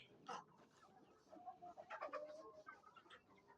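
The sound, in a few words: sick chicken making rattling sound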